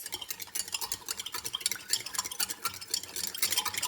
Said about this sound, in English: I'm gonna grab a knife and stir this up and see what happens.